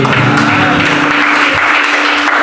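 Dense, steady applause from a church congregation at an apartment worship service in Jakarta, sustained throughout with faint voices beneath.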